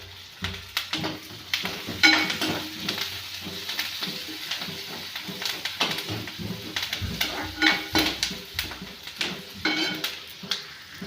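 Chillies and curry leaves sauté in a pan for upma, a soft sizzle under frequent clinks and scrapes of a spoon against the metal pan, irregular and close.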